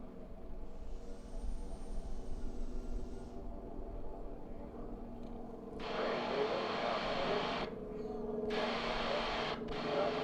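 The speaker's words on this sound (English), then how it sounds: "That's our lead aircraft." An AT-6 race plane flies at the Reno air races, making a distant, sustained engine drone that swells and changes pitch as it passes, with a brief tone in the background.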